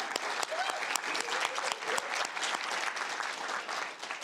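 A conference audience applauds in a dense, continuous round of clapping, individual claps popping out now and then, with no talk over it.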